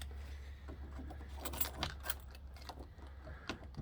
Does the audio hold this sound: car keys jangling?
yes